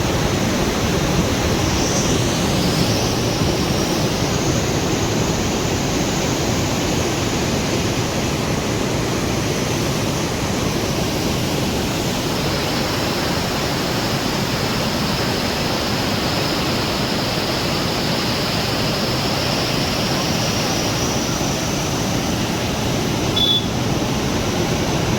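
Flooded Sharda river rushing past at Tanakpur, its colliding waves forming whirlpools, in a steady, loud, broadband roar of churning water that continues unbroken, with no voices.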